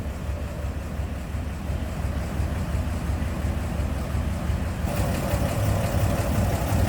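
A 1954 Chevrolet 3100 five-window pickup's inline six idles steadily with the hood open, a continuous low rumbling purr heard close with no talking.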